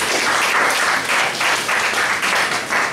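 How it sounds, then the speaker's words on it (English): Sustained audience applause for a student presenter at a talk, a dense wash of many hands clapping that holds loud and steady for the whole stretch with slight swells, no voices over it. "let's give Bhujan another round of applause"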